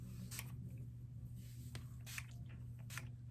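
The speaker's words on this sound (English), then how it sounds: "Gonna give it just a good little spray." Argan oil shine mist sprayed from a new bottle onto braided hair, three short hissing bursts spaced about a second apart over a steady background hum, close and fairly soft.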